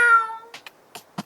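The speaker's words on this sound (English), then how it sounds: "You hear a meow somewhere." A cat in a cemetery gives one clear, fairly close meow, followed by a few faint rustling ticks.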